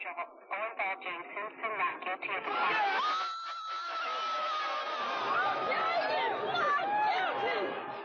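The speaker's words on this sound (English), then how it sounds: "Here the crowd is mostly jubilant." A jubilant crowd erupts at the O.J. Simpson verdict, a thin, broadcast-quality swell of cheering and shouting that comes after some speech and holds loud to the end.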